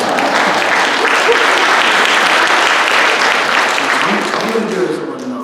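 A church congregation breaks into sustained, dense applause during a sermon, loud and close, holding steady for several seconds before tapering slightly at the end.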